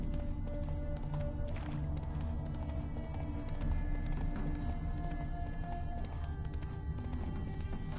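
Galloping horse in The Witcher 3, with steady clip-clop hoofbeats over a dense, loud ambient game bed, running continuously.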